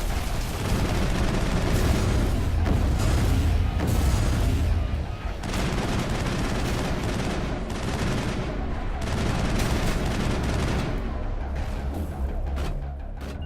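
Rifle fire in Mass Effect rattles steadily through a chaotic combat mix, repeated loud shots and booms layered over each other with little pause.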